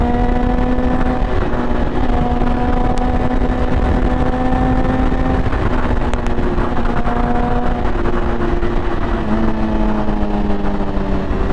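Motorcycle engine revving hard and accelerating through the gears, loud and sustained with rising and falling engine tones on a ride out, no talking.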